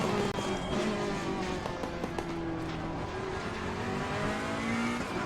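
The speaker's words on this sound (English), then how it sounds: "Braking for the hairpin." A race car in Assetto Corsa Competizione brakes for a hairpin, its engine loud and continuous with shifting tones and a hint of tire squeal throughout.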